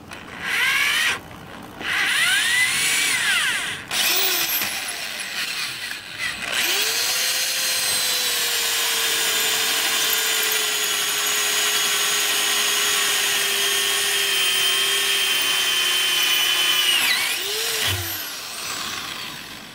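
A power drill bores a center hole for a boat handle, starting with short bursts, then a long steady whine that rises as it cuts, close and loud with no talk.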